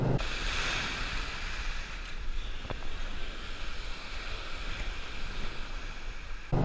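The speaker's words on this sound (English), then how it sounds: "the waves are crashing" Ocean waves break on a beach in a continuous, loud rush of surf, with gusts of wind buffeting the microphone throughout and no voices.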